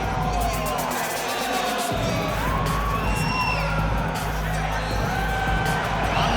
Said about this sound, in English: I'm not sure I have ever heard a louder crowd in any arena in the world than this here Bell Center in Montreal